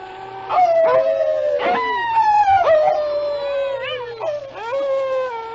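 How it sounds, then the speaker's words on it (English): A dog howls like a wolf in a 1940s radio drama, long wavering pitched howls rising and falling repeatedly, loud and close, with several overlapping voices joining in. "Start howling like a wolf."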